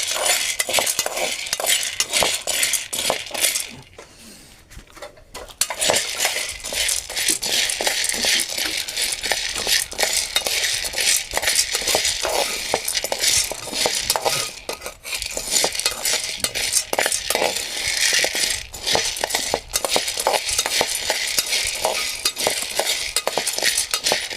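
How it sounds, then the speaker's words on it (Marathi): Cowpeas are dry-roasted in a pan and stirred constantly, giving a dense, continuous rattle and scrape of hard beans against metal. The sound stops briefly once, then resumes. "तरी चवळी मी भाजून घेतो"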